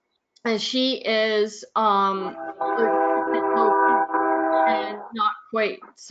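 A train horn blows a long, steady chord a few seconds long under and between people talking over a webinar connection.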